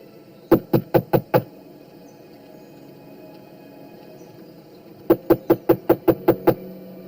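Knocks on a door come in two separate bursts: a quick run of five sharp raps, a quiet pause, then a longer series of about eight firm knocks, close and loud against a faint room hum.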